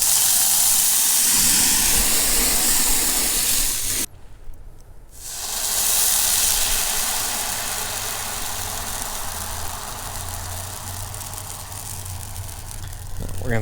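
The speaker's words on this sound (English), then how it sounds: "we're going to take our whiskey and we're just going to pour some in the skillet to deglaze it" Whiskey poured into a hot skillet to deglaze venison heart drippings bursts into a loud, hissing sizzle that cuts out briefly, then returns and settles into a steadier, softer bubbling hiss.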